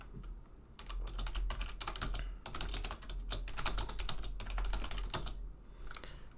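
Fingers tap quickly on a computer keyboard while notes are typed, a close, quiet run of clicky keystrokes in uneven bursts with short pauses over a low background hum.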